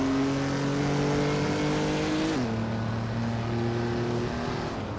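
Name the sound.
1970 Dodge Challenger race car engine in a racing video game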